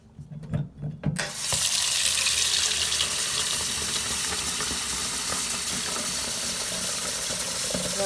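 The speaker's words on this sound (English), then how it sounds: "So I'm going to go over to my sink, get some water." Water runs steadily from a kitchen sink tap while making turkey stew, a broad continuous hiss that starts after a few soft knocks and holds at an even level.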